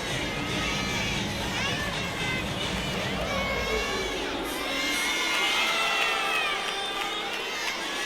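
Large arena crowd at a college gymnastics meet cheering and shouting loudly and continuously during a beam routine, with high-pitched yells and whoops rising and falling throughout.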